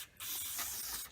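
Cleaner sprayed onto a Yamaha XJ650 carburetor part, a steady close hiss lasting about a second with a short pause near the start, no voices.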